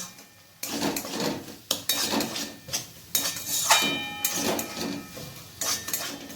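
Bamboo shoot curry being stirred continuously in a pan over low heat, with repeated scraping and clanking of a utensil against the pan in uneven bursts, up close.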